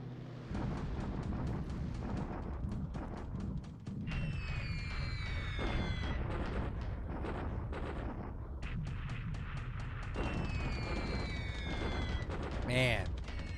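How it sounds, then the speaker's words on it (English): Japanese anti-aircraft flak fire in the War in the Pacific video game during a huge air battle, a continuous barrage of booming bursts and crackling gunfire rumbling steadily, with whistling streaks overhead. "whatever the Japanese have for flak is reaching them"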